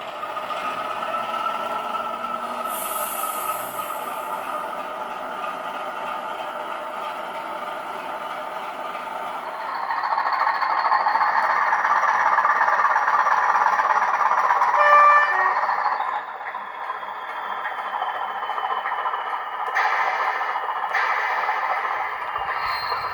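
A model railway locomotive runs along a layout, giving a steady whirring motor hum that rises louder midway and then settles back, with faint higher squeals near the end.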